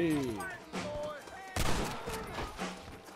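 A few gunshots in the western game Red Dead Redemption, sharp cracks with one loud report standing out, set against spoken dialogue that runs through the clip.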